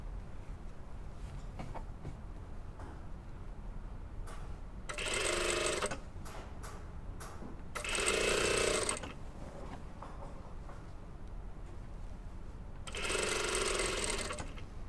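A sewing machine stitches the waistband onto a pencil skirt in three bursts of rapid whirring stitching, each a second or so long, separated by quiet pauses with faint handling noises, close by and with no voices.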